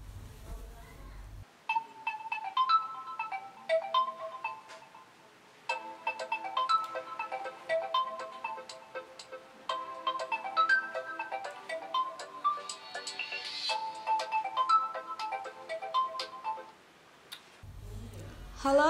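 A melodic phone ringtone plays for a long stretch, looping a bright tune at moderate volume, with brief murmurs before and after.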